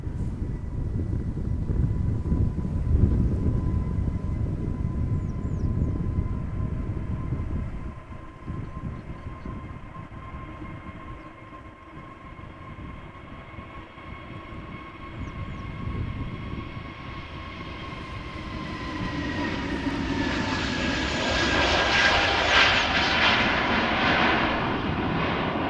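An Airbus A320neo jet airliner at Amsterdam Schiphol Airport gives a broad, continuous engine roar with a steady whine running through it, rising louder and brighter toward the end as it passes nearby.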